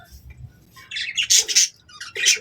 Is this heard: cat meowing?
no